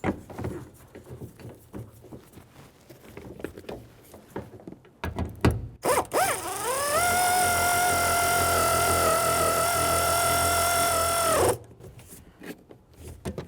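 A power tool drives a bolt into a Chevrolet Silverado 1500 pickup, a loud steady motor whine that ramps up quickly and holds for about five seconds before cutting off, after softer clicks and handling noises.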